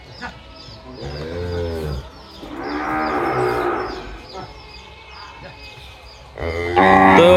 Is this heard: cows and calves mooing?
yes